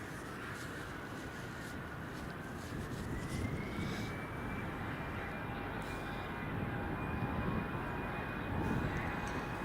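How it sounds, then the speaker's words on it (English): A Finnair jet departing Edinburgh Airport for Helsinki produces a faint, steady engine roar with a rising whine, a distant continuous rumble heard alone. "There goes the Finnair heading to Helsinki."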